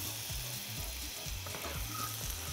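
Butter sizzles steadily in a hot frying pan where pear and a little sugar are browning, a close, continuous crackle with faint stirring scrapes and no voices.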